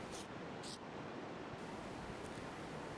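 Ocean surf at a beach where beginners ride foam waves, a steady broad roar of breaking whitewater with wind, constant and fairly loud with no voices.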